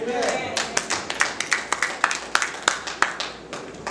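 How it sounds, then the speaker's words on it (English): An audience claps hands in a steady rhythmic beat, sharp repeated claps sounding close and moderately loud alongside a voice. "Come on and clap your hands"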